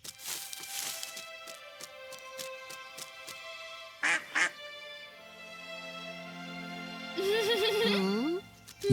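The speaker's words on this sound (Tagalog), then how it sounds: "Isang maliit na pato lang pala." Several short quacks from a small duck, then a rising, wavering call near the end, heard close against a quiet background.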